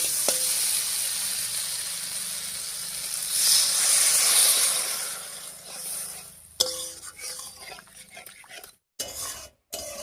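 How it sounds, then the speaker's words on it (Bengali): Water poured into a hot pan of fried onion and capsicum for an egg dish bursts into a loud steaming sizzle that holds for several seconds, then gives way to scattered scraping and clatter. "এবার জল দিয়ে দিচ্ছি।"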